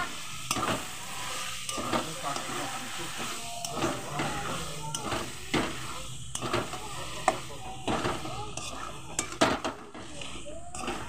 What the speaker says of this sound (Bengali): এবার আমি ভালো করে মাংসটাকেও কষিয়ে নেব